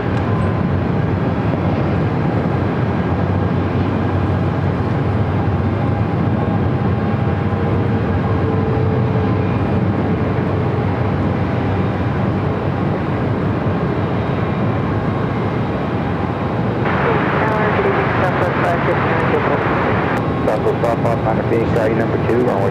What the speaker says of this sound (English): American Airlines flight 2769 at A321 Neo, now pushing back